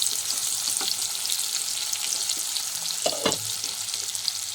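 Small pieces of fish go into a pan where bitter gourd is already frying in oil for a fish curry, giving a steady close sizzle with a few stirring scrapes and soft knocks partway through.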